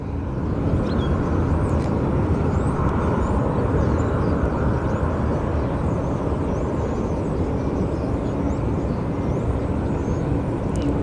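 A Southwest airliner taxis at Phoenix Sky Harbor airport, its engines giving a loud, steady roar and broadband rumble that holds constant throughout.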